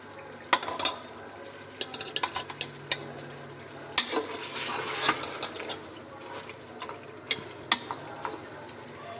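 Pieces of beef karahi sizzle in a pan, with a spoon clattering and scraping as they are stirred every second or so, close up with no talking.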